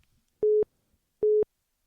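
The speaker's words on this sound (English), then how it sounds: "My wife is beeping in." Two short, identical electronic beeps from a call-waiting tone on a phone line, evenly spaced about a second apart, clear and isolated against near silence.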